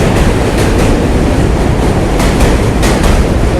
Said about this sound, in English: It's louder than it was the first two trains I passed.